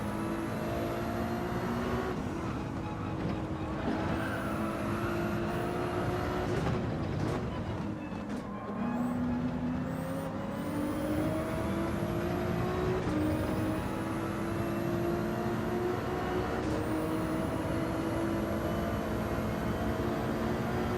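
Gran Turismo 7 race car at Deep Forest, its engine howling continuously and close, pitch sweeping up through upshifts and dipping under braking for corners.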